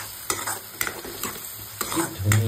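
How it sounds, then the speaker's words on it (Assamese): Garlic frying in hot oil as it is stirred in a pan, a few soft scraping strokes over a low steady sizzle, with a brief hum near the end. "নহৰু ৰাখিলোঁ ইয়াতে এতিয়া দি দিম আগত তেলত ভাজিব লাগে"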